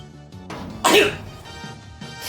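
A single sharp sneeze bursts out once, loud and close, between quieter background game music and low ambient sound.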